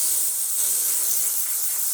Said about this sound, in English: We're gonna run the steam one.